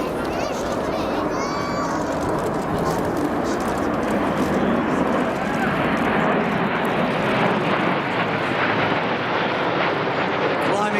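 A Red Arrows Hawk jet roars past loudly at the 2015 East Fortune Airshow, its engine noise sweeping and sustained for several seconds, with faint crowd voices in the background.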